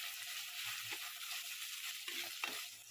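Curry leaves sautéing in oil for a potato and moong dal salna, a faint continuous sizzle with a few soft stirring knocks near the end, no speech.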